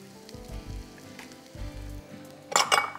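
Capsicum and other vegetables stir-fried with green onion and oyster sauce in a hot pan, sizzling close up while a utensil scrapes and stirs in thumping strokes, ending in a brief metallic clatter.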